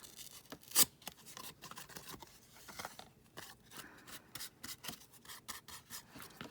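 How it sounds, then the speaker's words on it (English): Cardboard scraping paint across a junk journal cover, a dry raspy rubbing in quick irregular strokes, close and fairly quiet, with one sharper scratch early on. "You can use a cardboard for your brush when you're doing this scraping stuff."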